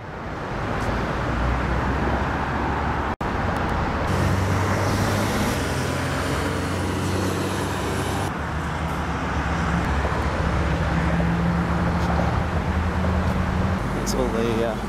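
Steady street traffic in Muscat, Oman, with minibuses idling and waiting to pick up passengers; a continuous roadway rumble of engines fills the scene, near and fairly loud, with voices mixed in.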